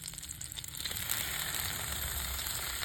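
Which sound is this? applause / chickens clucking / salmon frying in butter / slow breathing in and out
salmon frying in butter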